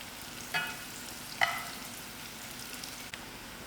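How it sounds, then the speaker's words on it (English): Onions brown in a pan for a dhal, a low steady sizzle with a couple of brief sharper clicks, close and faint, no talking. "while my onions is browning"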